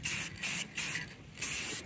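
Spray paint cans being used on a 1946 Farnsworth, four short hissing bursts in quick succession, each lasting about a quarter second, close and fairly loud with brief gaps between.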